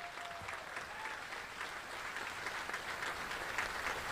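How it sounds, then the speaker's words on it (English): Steady audience applause at a U.S. Army Contracting Command change of command ceremony, held outdoors with troops on the field and an Army band, a dense even clatter of many hands continuing throughout at moderate distance. "let's go ahead and clap for the troops on the field"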